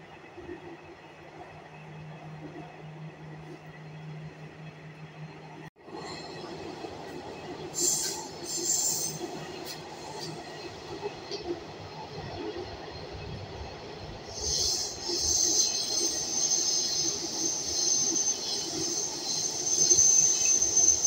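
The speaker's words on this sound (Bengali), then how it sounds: "এখন এই তাজমহল মেট্রো স্টেশন ছেড়ে পরবর্তী মেট্রো স্টেশন, অর্থাৎ ডক্টর আম্বেদকর চক মেট্রো স্টেশনের পথে ছুটে যাব।" An Agra Metro train pulls out of Taj Mahal station, heard from inside with a low rumble that builds. Squealing wheels and hissing bursts rise over a steady clatter as the train picks up speed.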